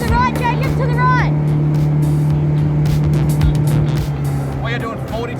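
An outboard boat motor holds at 4,200 revs against a river current during a king salmon fight in Alaska, a steady droning hum beneath excited talking from people aboard.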